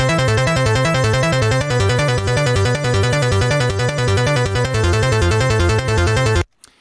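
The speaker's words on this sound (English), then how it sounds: "And then you put all 4 of those together, and you get this really rich, lush ARP sound." Four stacked synth layers combine into a rich, lush arpeggiated synth line for a remix, a steady rapid pattern of notes that pumps rhythmically from kick-drum sidechain ducking and plays loud and continuous before stopping abruptly.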